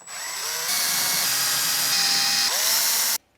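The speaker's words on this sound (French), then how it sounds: "c'est au tour des trous de perçage destinés aux consoles de fixation" A power drill bores holes into a wall for the mounting brackets of a washbasin, running loud and close with a steady high whine for about three seconds. The pitch dips briefly near the end, then the drill stops abruptly.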